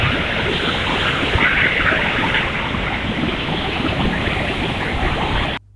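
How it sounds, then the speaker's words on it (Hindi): Water surges steadily through a river barrage at Kalabagh, a loud, unbroken roar of rushing flow that fills the scene without pause, heard close by and alone, with no voices. "हमने एक निगाह पानी के ठाठे मारते रेले की तरफ दौड़ाई।"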